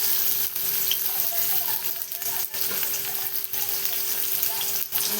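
Onion fries in oil in a kadhai, a continuous close sizzle with a few brief knocks of the spoon against the pan rising above it, and no talking.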